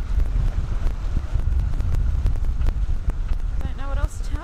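Gusty wind buffets the microphone in heavy low rumbles aboard a sailboat in the Mediterranean, with a brief voice near the end.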